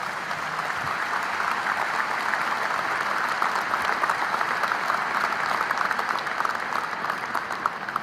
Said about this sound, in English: You can applaud them, because this is an expression of gratitude for their life and for their leadership as well.